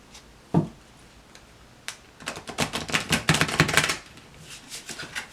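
Rapid papery flicking and riffling of tarot cards, a few isolated taps first, then a dense burst of shuffling that stops abruptly.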